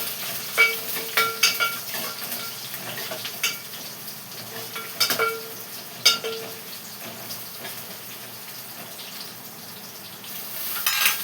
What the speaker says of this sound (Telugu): చారు తాలింపు వేసేస్తున్నాం